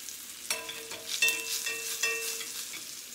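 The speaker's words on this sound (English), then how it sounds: "this is a good way to fry up salmon too" Salmon sears and fries in a pan, giving a steady, faint sizzle with a few sharper crackles and stirring-like clatters spread through the stretch, and no talking.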